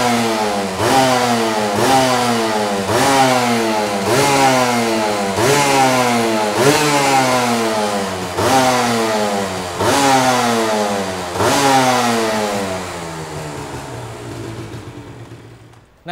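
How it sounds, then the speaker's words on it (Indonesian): A used 125 cc moped-style underbone motorcycle runs just after a kick start. Its engine is loud and close and is revved about eight times in rising bursts, then dies away at the end. "Nyalain kontak, kita engkol. Wis, sekali genjot langsung nyala."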